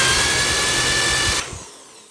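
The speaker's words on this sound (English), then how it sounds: "to actually create better guide hole in there for the bigger drill" A power drill bores a guide hole for an interior door, whining loudly and steadily for about a second and a half before stopping abruptly, followed by a brief faint tail.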